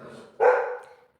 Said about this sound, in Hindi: जिम्मी भौंक रहा है बाहर